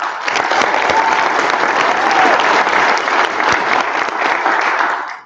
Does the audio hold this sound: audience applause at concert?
yes